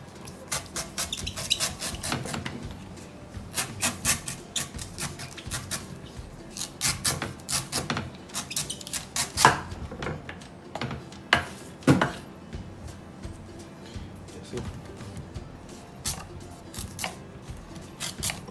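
A knife slicing through a coconut husk gives rapid, crisp scraping and crunching strokes in irregular bursts that run steadily throughout, close up with no talk.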